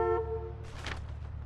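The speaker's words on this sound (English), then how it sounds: "Keep honking." A car horn honks in a security guard video game, one sustained toot near the start, followed by quieter vehicle rumble and rustling.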